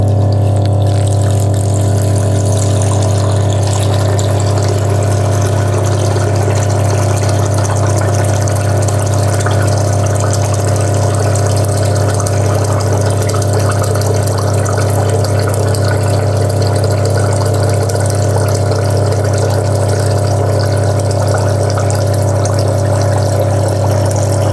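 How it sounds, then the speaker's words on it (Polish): A SHURFLO water pump fitted as a replacement in a Santoemma MAXI cleaning machine runs steadily during a flow test, a loud, constant low hum with a droning mechanical tone throughout. "Jak widzicie i słyszycie, pompa funkcjonuje, wycieków nie stwierdzono"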